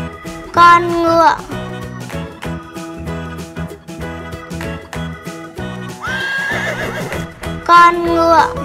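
A horse neighs twice, whinnying loudly near the start and end, over a steady bed of children's background music with a higher animal-like call in the middle.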